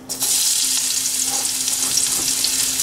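Onions dropped into hot oil that was already used for frying, bursting into a loud, continuous sizzle up close with faint stirring scrapes.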